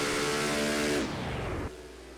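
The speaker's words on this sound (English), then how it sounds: "Listen to how you can hear he's clutching." A loud race car engine at Dover whines high, then drops sharply in pitch as the driver clutches going into turn 1, falling to a lower idle-like drone near the end.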